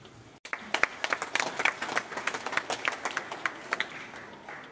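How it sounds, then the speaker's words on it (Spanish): A small crowd claps steadily for several seconds, scattered individual claps rather than a dense roar, moderately close. "Le demos un aplauso por el novillo."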